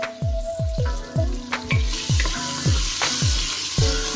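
Vegetables for a catfish dish sizzle steadily in a pan, with a series of regular low thumps and some clinks of a wooden spoon stirring, close and fairly loud with no talk.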